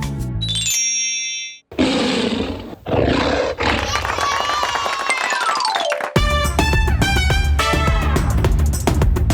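Loud, close tiger roar following chimes and a jingling, sparkly intro, with a growling, rumbling call sustained over several seconds amid musical tones and a child-like voice.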